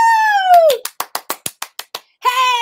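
A brisk run of about eight evenly spaced hand claps welcomes a guest onto a talk-style show. The claps sit between a sustained, sliding vocal sound at the start and a voice that returns right after them.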